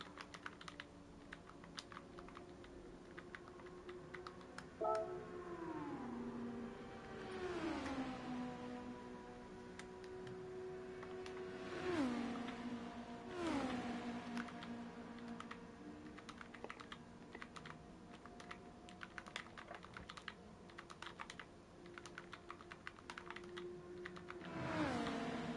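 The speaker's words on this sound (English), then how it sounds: "Probably hear me clicking away on the controller." Game controller buttons clicking in quick, uneven bursts during an IndyCar racing game, with engine tones rising and falling in the background.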